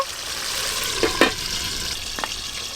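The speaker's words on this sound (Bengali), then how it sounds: "এবার আমি চাপা দিয়ে টমেটো আর মাংসের পাগুলো একটু ভালো করে ভাজা ভাজা করে নেব" Tomato and chicken pieces fry steadily in a pan with a continuous sizzle, with a few brief stirring scrapes over the hiss.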